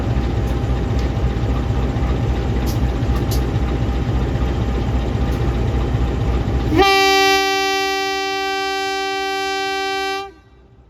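The Kahuripan economy passenger train at Madiun's main station gives a steady heavy rumble, then a loud, long horn blast of several seconds that cuts off sharply near the end.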